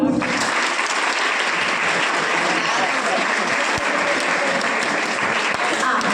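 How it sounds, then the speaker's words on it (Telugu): Seminar audience clapping together in a hall, dense sustained applause from many hands, loud and continuous throughout, with a faint voice in the background. "ఒకసారి అందరు క్లాప్స్ కొట్టండి"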